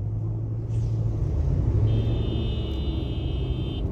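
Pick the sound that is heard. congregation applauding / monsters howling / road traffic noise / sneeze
road traffic noise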